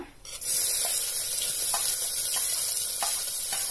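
Spices and onion drop into hot oil in a pressure cooker, bursting into a loud, sudden sizzle that settles into a steady frying hiss with faint stirring clinks, up close and without talking.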